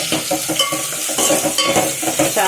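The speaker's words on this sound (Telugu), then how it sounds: "ఇప్పుడు అల్లం వెల్లుల్లిపాయ పేస్ట్ వేయాలి." Ginger garlic paste frying in a pan for prawn biryani, with a steady close sizzle broken by repeated scraping strokes as it is stirred, and no one speaking.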